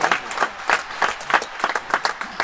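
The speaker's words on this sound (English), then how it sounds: "Plenty of appreciation from the crowd here for that one" A crowd at a real tennis semi-final match applauds a well-played shot, steady close clapping from many hands running throughout without a break.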